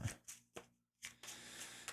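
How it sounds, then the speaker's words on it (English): A deck of Lorcana trading cards shuffled by hand during a solo game, several quick riffling bursts with a short pause between them, close and crisp. "Alright, so we have to shuffle her deck up."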